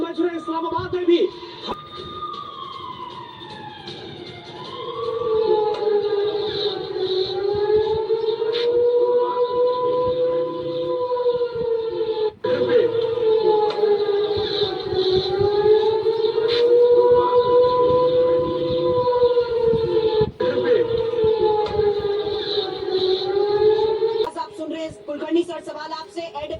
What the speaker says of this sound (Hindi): रावलपिंडी में लगातार वहां पर सायरन बज रहे हैं, एयर रेड सायरन बज रहे हैं, इस्लामाबाद में भी।